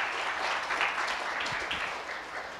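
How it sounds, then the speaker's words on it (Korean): Audience applause at a Korean venture business forum session as a presenter is introduced, a steady wash of clapping held at a moderate level without speech. "박수 부탁드리겠습니다"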